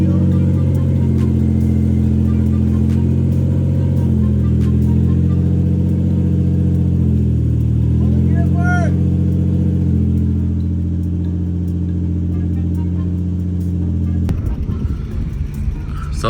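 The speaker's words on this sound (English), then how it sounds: "So it looks like I'm driving the car now." A Lexus GS300 converted to a manual transmission drives along with a steady, loud mid-pitched engine drone that rises slightly as it pulls through second gear, then eases off near the end, close and continuous.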